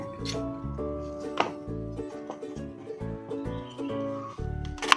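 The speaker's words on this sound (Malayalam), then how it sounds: "നമുക്ക് ക്യാരറ്റ് ഒന്ന് ഇതുപോലെ അരിഞ്ഞെടുക്കാം" A knife chops carrot on a board, in a run of crisp, fairly regular cuts heard near and clear over a tonal background of music.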